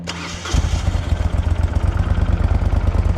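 A 2004 Moto Guzzi V11 Coppa Italia with a titanium exhaust cranks and fires up close, then settles into a loud, even, throbbing idle with a steady pulsing rumble.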